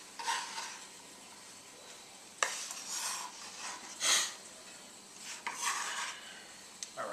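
Shrimp stirred into avocado with lemon juice in a bowl, giving faint wet scraping and spoon strokes in short bursts with quiet gaps, no talk.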